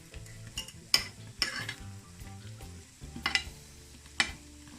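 Jamaican festivals, fried dumplings, frying in hot oil as they turn golden brown, with a quiet steady sizzle broken by a few sharp clinks of a utensil against the pan.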